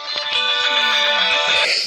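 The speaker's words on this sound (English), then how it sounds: "that's my phone ringing." A phone rings with a bright, steady electronic ringtone, close and fairly loud, its tones running continuously for about two seconds over a faint low hum from an old Kirby vacuum.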